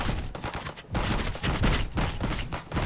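Gunfire in the VR game Hot Dogs, Horseshoes & Hand Grenades, with loud, dense bursts of rapid shots crackling one after another at close range and no talking.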